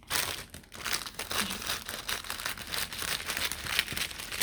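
Plastic packaging from a Temu parcel crinkles and crackles steadily as it is opened, a close, busy rustle with sharp crunchy bursts running throughout and no talking.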